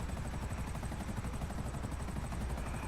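Helicopter in the GTA V Online video game, a steady rapid rotor chop and engine drone in the Tongva Hills area, continuous and fairly quiet with no talking.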